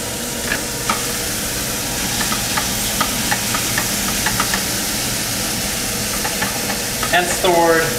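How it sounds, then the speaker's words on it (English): Meat sizzles and crackles steadily in a hot pan, with scattered pops and occasional scraping stirs, loud and close. "we're basically just frying our meat."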